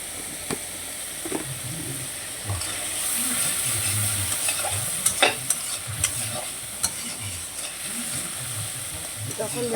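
Spices with salt and turmeric are sautéed and stirred in a pan for egg bhuna, with a continuous sizzle and hiss, scraping stirs and sharper clicks partway through, and a low voice faintly underneath.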